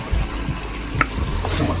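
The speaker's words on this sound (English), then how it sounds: "I hope this water is not too hot." Water pours steadily into a foot bath, a continuous splashing hiss with small gurgles and a faint clink near the middle, fairly close.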